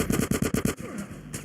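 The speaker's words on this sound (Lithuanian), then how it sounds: "vėl kažkas šaudo iš kažkur" Rapid bursts of automatic gunfire from the video game GTA San Andreas, a fast rattling volley of about eight shots followed by a lull and one more burst, loud and close.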